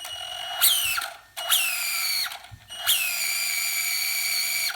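A Traxxas Slash 2WD RC car's transmission slips at the slipper clutch while the car is pressed down for traction, giving three close, whining, ratcheting bursts that each fall in pitch, with short gaps between them.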